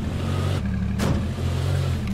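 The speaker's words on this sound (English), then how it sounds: "Why is there a car here?" A car engine in the battle royale game H1Z1, a steady low idling drone held close and fairly loud throughout, with a brief broadband whoosh near the middle and no talk over it.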